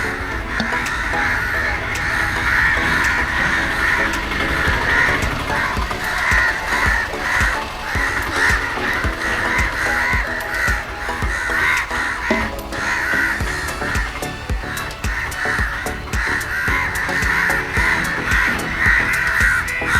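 Crows caw loudly and repeatedly near Vaikom Beach, overlapping harsh calls from several birds forming a dense, continuous chorus close by.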